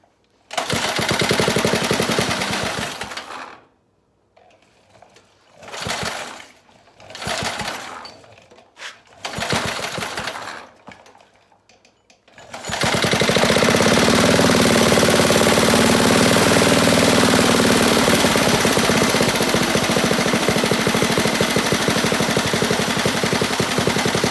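A go-kart engine revs in short bursts separated by brief pauses, then settles into a loud, steady, continuous drone close by that holds for over ten seconds.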